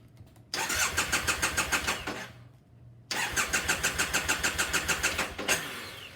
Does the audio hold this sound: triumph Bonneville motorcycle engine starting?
yes